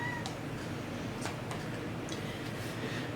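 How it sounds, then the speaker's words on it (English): A pet cat named Europa gives a few faint, brief meows over a steady background hiss, spaced irregularly across a few seconds. "That's my cat."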